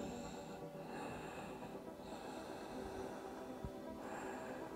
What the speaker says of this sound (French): On respire.